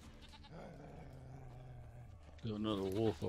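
A goat in The Witcher 3 gives a short, nasal bleat near the end, loud and close, rising over a steady low hum of game ambience.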